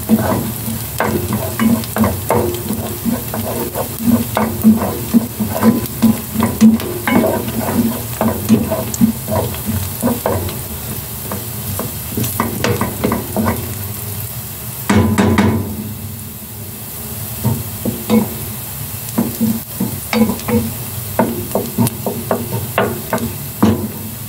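Ginataan papaya, a Filipino dish of papaya with string beans and sardines, is stirred in a hot pan, with steady sizzling and frying under repeated close scraping and knocking of a utensil against the pan and no talking.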